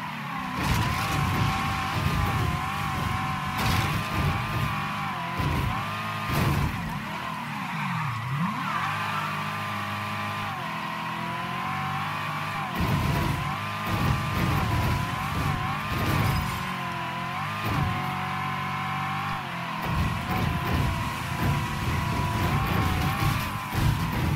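Car in the Mafia 3 video game driving hard, engine roaring and revving continuously, with repeated tire squeals and skids throughout a long stretch of car combat, no talking.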